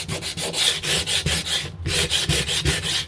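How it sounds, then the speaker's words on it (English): Sandpaper rubs back and forth across a painted wooden cutting board in quick, rhythmic strokes, a close, raspy scratching with a brief pause partway through. "Sandpaper. I want to blend this a little bit more."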